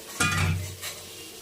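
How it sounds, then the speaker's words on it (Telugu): Brinjal pieces frying in hot oil in a pan give a sharp sizzling burst with a clatter of stirring, then a softer second surge, close and loud. "ఇలా బాగా మంచిగా ఆయిల్లో ఫ్రై అయ్యాక"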